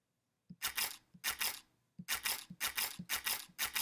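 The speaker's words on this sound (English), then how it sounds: "the sound of this sound, which is a camera shutter sound, plays back" Camera shutter sound effect played back on a mouse click, heard as a string of crisp mechanical clicks with snaps of noise: two separate shots, then a quicker burst of about six near, clear shutter releases.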